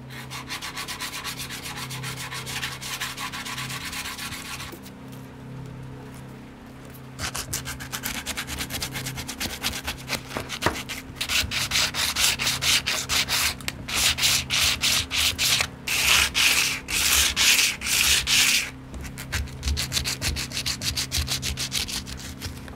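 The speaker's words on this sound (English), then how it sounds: "To soften the jagged edges, sandpaper can be applied." Sandpaper rubs steadily over jagged cut edges in long, continuous scraping passes, loud and close, with a brief pause near the start and no talking.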